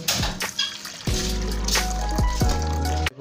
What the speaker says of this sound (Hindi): मैं पानी डाल देता हूँ।